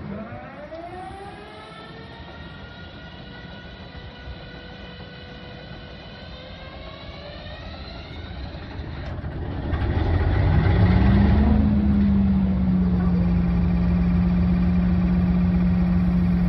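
A Class 56 diesel locomotive engine starting up, with rising and falling whines from the start sequence before the engine fires and settles into a loud, steady idle rumble.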